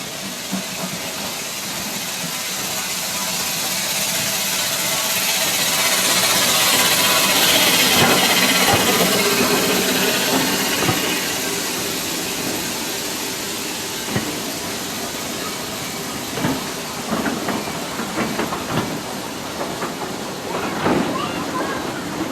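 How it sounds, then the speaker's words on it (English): A heritage train pulls into a station on the Foxfield Railway with a broad steady hiss and rumble that swells and then eases, followed by scattered clanks and knocks as it comes to rest. "So the train has arrived to take us back to Caverswall Road"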